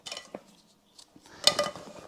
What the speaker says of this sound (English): This is just the lightweight frying pan